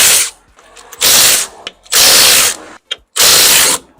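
Loud ratchet wrench clicking in three sustained bursts with brief pauses, used while removing a tire on a Suzuki Wagon R MH22S; close and alone, no talk.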